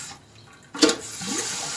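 A toilet tank refills through a newly replaced fill valve. A soft hiss is followed by a sudden gush of water, then a steady, moderately quiet stream of refilling that continues to the end.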